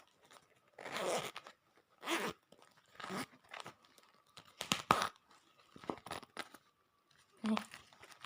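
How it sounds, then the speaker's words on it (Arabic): A zipper opening on a bag, several short raspy zipping strokes with pauses between, close and clear in a quiet room, with a few crinkles of packaging. "نفتح السوستة."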